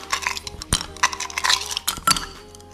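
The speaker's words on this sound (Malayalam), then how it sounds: "നമുക്കിതിലേക്ക് ഐസ് ക്യൂബ്സ് ഇട്ട് കൊടുക്കാം" Ice cubes are dropped into a glass of watermelon mojito, making several sharp close clinks and knocks in quick succession, each cube rattling against the glass.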